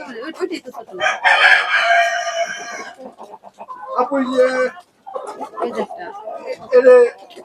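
Chickens cluck and a rooster crows nearby in several loud bursts, with people talking over and between the calls.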